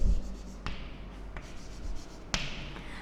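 Chalk writing on a classroom board gives a few faint taps and short scratchy strokes spaced apart, with a sharper knock near the end over a quiet room.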